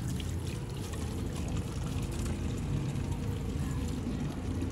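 Water pours steadily into a toy water gun being refilled, a continuous broadband gushing that runs unbroken and fairly close throughout, with no talk over it.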